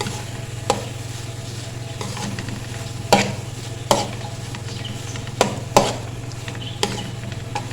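Carrot halwa being stirred in a pan, a steady low sizzle with scattered scrapes and knocks of the spoon against the metal at irregular intervals, close and fairly loud, no voices.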